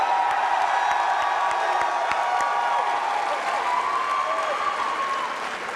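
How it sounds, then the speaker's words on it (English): A large arena crowd at a CS:GO esports major semifinal in America applauds and cheers steadily, a dense wash of clapping and whoops sustained throughout at high level, tapering slightly at the end. "Did you expect that this crowd here in America would be cheering for you guys so hard like this?"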